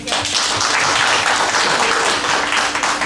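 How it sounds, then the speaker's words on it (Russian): Audience at a joint concert applauding, a dense and steady wash of clapping from many hands, loud and continuous from start to finish without a break. "давайте договоримся, чтобы все аплодировали, чтобы мои глаза радовались"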